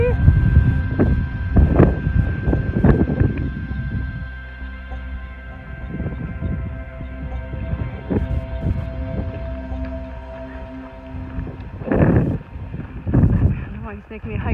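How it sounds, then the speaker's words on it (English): Gusty wind on a mountain pass in the Bob Marshall Wilderness buffets the microphone in low, rumbling bursts, strongest at the start and again near the end, with a voice speaking briefly over it. "Really windy."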